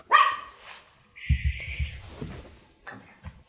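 A dog nearby gives several short, sharp barks and yips, spaced irregularly over a few seconds, clear and fairly loud above a quiet room.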